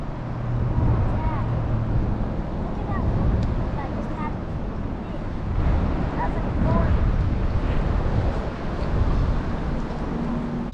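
Steady wind gusts over a river, rumbling against the microphone in rising and falling waves while people talk nearby.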